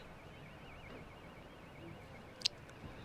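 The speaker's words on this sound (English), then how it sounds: "there's even a car alarm going off" A car alarm wails faintly in the distance near a cricket ground during a Kent vs Surrey county championship match, its thin rising-falling tone running under low ambient crowd noise with a brief sharp click.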